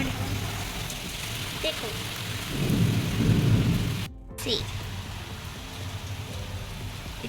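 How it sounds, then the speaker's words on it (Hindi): Heavy rain falls steadily in a broad wash of noise, with a stronger surge midway and a brief dropout, while a person talks over it. "बहुत तेज़ बारिश हो रही है"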